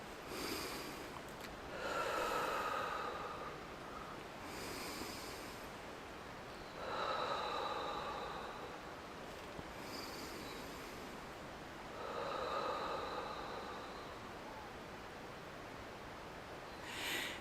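Deep, slow breathing, about four long breathy inhales and exhales spaced evenly through a quiet background, close and soft with no talk.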